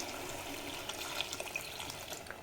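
Hot water is poured into a cooking pot with ground mustard masala, a faint steady watery rush with a few soft splashes.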